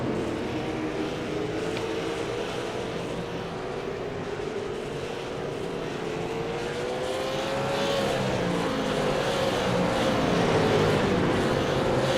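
A pack of race cars in an ETI Southern Super Series race roars through turns 1 and 2, a sustained engine drone rising and falling in pitch and swelling louder toward the end.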